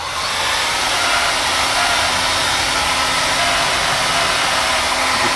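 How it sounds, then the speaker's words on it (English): A hairdryer blows steadily on a Bernina/Oliva CL46 sewing machine after steam cleaning, drying out its oil holes; a loud, close, constant whooshing roar with a faint motor hum runs unbroken throughout, with no talking. "then go in with the hairdryer"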